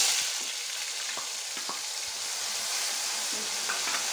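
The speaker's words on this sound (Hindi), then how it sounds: "प्याज को अच्छे से गोल्डन ब्राउन होने तक फ्राई करेंगे।" Onions frying in a pan with a pinch of asafoetida, a constant bright hiss of sizzling oil with occasional light knocks of a spoon as they are stirred, near and steady.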